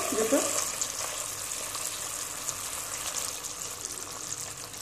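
Koi fish hitting a pan of hot, bubbling spice paste, giving a steady close sizzle and frying hiss that runs through the whole stretch, with no talk over it.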